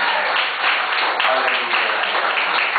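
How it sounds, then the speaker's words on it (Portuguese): A church congregation applauds together, a dense, even wash of clapping that holds steady throughout without letting up. "Pode aplaudir o Senhor."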